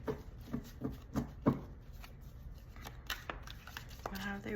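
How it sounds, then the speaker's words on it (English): A tarot deck is shuffled by hand: several quick papery riffles and slaps come in a loose rhythm early on, then give way to softer, scattered card handling. "let me get one more shuffle"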